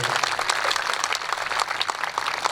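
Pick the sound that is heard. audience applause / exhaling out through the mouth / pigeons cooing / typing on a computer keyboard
audience applause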